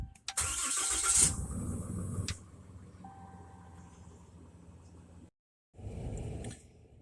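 Truck engine cranks and catches with a loud starter whir, then settles into a low idle to warm up. It cuts off briefly and then runs again, with no speech.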